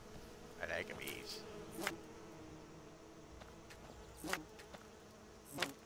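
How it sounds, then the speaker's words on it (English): Game bees in modded Skyrim give off a few short buzzing passes that swell and fade at moderate distance over a quiet ambient background. "Bees! I like bees."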